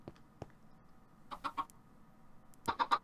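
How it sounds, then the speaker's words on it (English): A chicken in the Minecraft video game clucks softly in a few short, scattered bursts, with two quick clusters of clucks standing out against a quiet background. "Hello, chicken."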